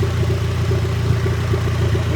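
A turbocharged budget-build Honda Civic engine runs steadily at idle nearby, a loud, even mechanical hum with no speech.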